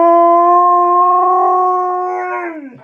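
A pet dog howls after squeaking a purple bunny toy, one long sustained tonal howl close by and loud, holding steady pitch before sliding down and trailing off at the end.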